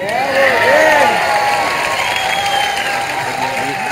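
A crowd at a pétanque final in Marseille applauds and cheers loudly, with whistles and shouts over a continuous wash of clapping.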